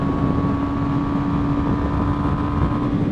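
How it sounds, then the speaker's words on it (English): A motorcycle engine drones steadily as it rides up behind a rider on a 2020 BMW G 310 R, blending with the bike's own engine hum and wind rush at speed, without any talk. "that is, I think, a motorcycle behind me"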